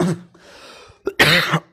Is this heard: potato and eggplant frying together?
no